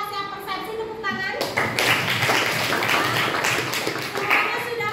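A classroom group claps for group 4 during a school coaching session, with sharp hand claps and taps building into lively applause after a few spoken words, with children's voices mixed in.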